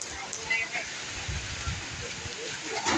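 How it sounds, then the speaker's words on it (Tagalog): Steady, dense rain pours down on the open sea, a continuous hiss with low, muffled thumps and rumbles beneath it. "Walang tigil lang yung ulan."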